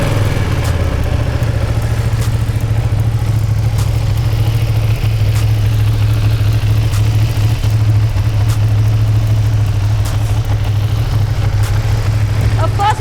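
A Ducati Panigale V2 motorcycle engine runs at a steady, loud idle, its low throbbing hum constant throughout with faint clicks on top, and voices may be present.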